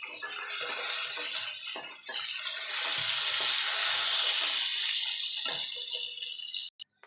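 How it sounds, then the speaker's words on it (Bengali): Eggplant frying in hot oil in a kitchen pan gives a loud, continuous broadband sizzle that swells and eases over several seconds, with a few clinks near the end and no talking. "দেখুন বন্ধুরা বেগুনটা ভাজা হয়ে গেছে,"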